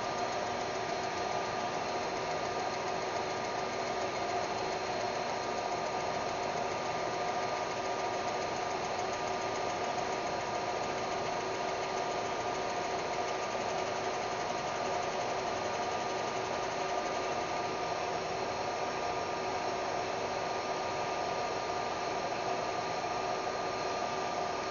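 A Trotec laser engraver fitted with a rotary attachment, working on a Yeti mug, hums steadily for the whole stretch, with constant mechanical drone and fan-like whir and no distinct movement events standing out.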